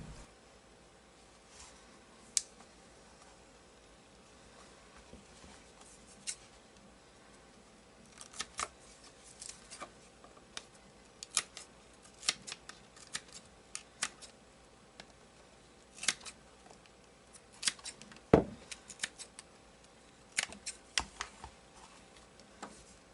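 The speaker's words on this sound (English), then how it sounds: "Now I'll just trim the excess off the bottom." Scissors trim the excess off the bottom of a universal pistol grip sleeve. Sharp snips and clicks come in irregular clusters against a very quiet background.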